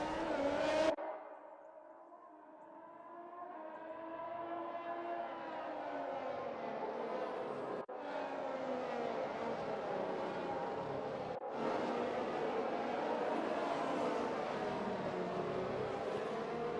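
F1 cars from a multiplayer racing video game on the formation lap at Shanghai, a continuous whining engine note that slowly rises in pitch and holds steady, fairly quiet, with no voices.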